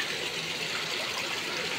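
Water running beneath rocks inside a cave in Matanao, Davao del Sur, a steady broadband rush and trickle, close and continuous with no talk.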